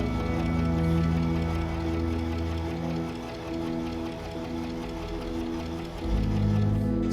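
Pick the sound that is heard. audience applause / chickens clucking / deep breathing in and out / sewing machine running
sewing machine running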